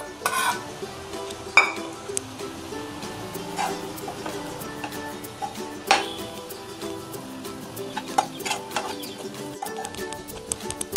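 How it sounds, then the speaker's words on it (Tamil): Grated coconut sautéed with ladies finger masala in a pan, with soft frying hiss and intermittent clinks and scrapes of a spoon against the pan, fairly close and quiet, no talk. "தேங்காய் நல்லா வதக்கிக்கலாங்க."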